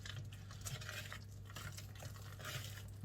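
Spoon gently stirring mashed banana into banana bread batter, soft wet scraping and squelching up close over a steady low hum.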